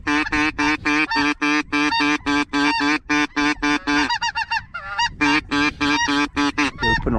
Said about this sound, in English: Here they come. Straight down. Geese or ducks? Geese.